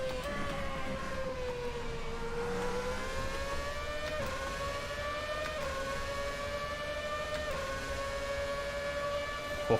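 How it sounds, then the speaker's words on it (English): A Ferrari race car in the Assetto Corsa racing sim holds a loud, steady high-revving engine whine that climbs through the gears with brief dips at each shift, sustained throughout and with no voices. "this Ferrari is a demon in the straights"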